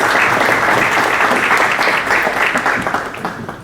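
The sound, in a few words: audience applause welcoming a speaker on stage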